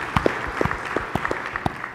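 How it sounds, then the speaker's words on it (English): Sparse clapping from a small audience at a panel session, a handful of distinct, fairly close claps in an uneven rhythm, with no talk over it. "Big round of applause for her as well."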